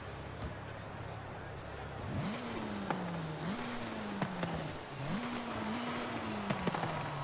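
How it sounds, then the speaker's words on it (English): Raspy car exhaust revving in Forza Horizon 5 on a wide-body car, rising in three repeated pitch sweeps with sharp pops and crackles between them over a steady background drone. "that exhaust is so raspy"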